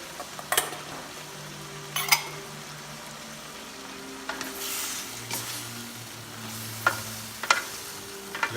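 Cauliflower and broccoli stir-fry in a pan, a low steady sizzle punctuated by several sharp clinks and scrapes of a utensil against the metal, close by, with no talking.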